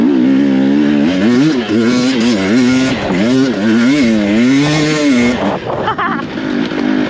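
An enduro motorcycle climbs a slippery hill in first gear, its engine loud and close, revving up and down in wavering pitch for several seconds before easing off.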